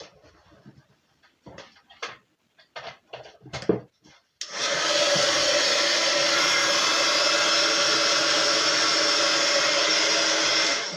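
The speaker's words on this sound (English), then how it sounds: "I'm going to give that a quick blast. With the heat gun, just to dry it off a bit quicker" A heat gun blasts a junk journal writing board to dry it. A few light taps and handling clicks come first, then a loud, steady, close blowing roar holds unbroken until the end.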